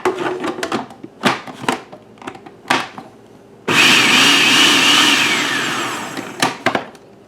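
A countertop blender pulses onion and garlic for a single serving of fresh salsa: several short choppy bursts, then one loud sustained whir of a few seconds that winds down into more brief pulses.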